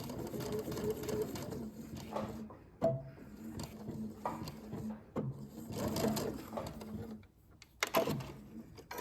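A home sewing machine stitches a fabric sourdough bread bag in short bursts, its motor whirring and needle ticking in stop-start runs with brief pauses between.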